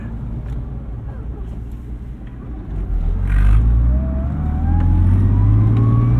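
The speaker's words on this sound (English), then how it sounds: "Eli was saying it sounded like a dog box transmission" A turbocharged 1995 BMW 325i with a straight-cut-gear transmission pulls through narrow streets, its engine droning low and steady, then swelling louder with a rising whine as it accelerates, with occasional voices inside the car.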